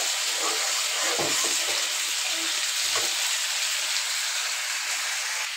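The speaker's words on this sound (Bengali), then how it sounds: "আর এখানে হচ্ছে যে মাংসটা আমি ভাজা নিতেছি" Meat fries in a pan with a continuous loud sizzle and hiss, with a few soft knocks of stirring now and then; no one speaks.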